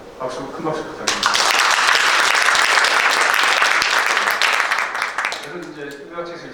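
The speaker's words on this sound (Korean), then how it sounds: "큰 박수 부탁드립니다." Audience applause at a book launch ceremony for an explorer's travel book, a dense burst of clapping that swells loud after a second, holds steady for about four seconds, then tapers off as talk resumes.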